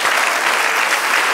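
Dense, continuous applause from a church congregation during a Sunday service, loud and even with no pauses.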